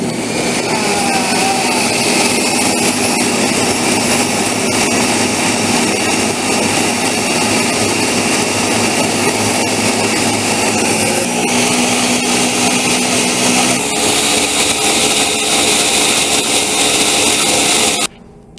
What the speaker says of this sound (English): going to do now is to turn on the blender